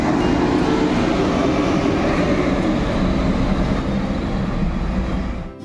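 An NPM bus, V76, departs toward Ranah Minang with a steady, loud engine rumble and broadband road noise that holds throughout, then drops off abruptly at the end.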